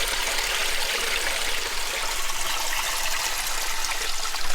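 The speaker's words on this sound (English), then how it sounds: "the sound of water is just so relaxing" Water running through the soil of an open rural field, a steady broadband rush and trickle that stays close and even throughout with no voices.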